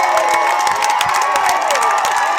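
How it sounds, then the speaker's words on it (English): Crowd at a high school football game, Jackson Olin vs Helena, cheering and shouting loudly and continuously, a dense roar with scattered whoops and claps before a kickoff. "The crowd's into it."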